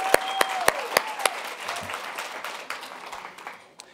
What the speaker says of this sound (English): So let's another round of applause for Kimball for simply taking this on.